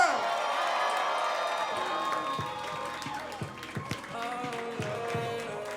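A crowd at an album event cheers and applauds, with whoops and scattered shouts rising over ringing music, loud and continuous throughout.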